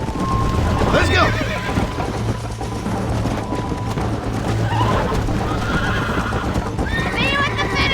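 In Red Dead Redemption, a horse whinnies loudly near the start and galloping hooves keep pounding throughout, with shouting voices and a busy race scene over the top.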